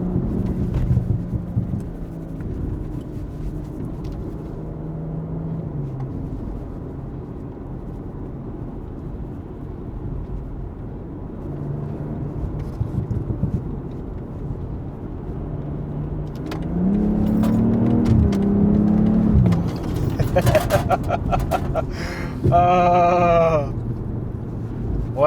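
A BMW M340i engine hums low and steady while cruising, swelling into a deeper, louder rumble partway through, with some talking over it.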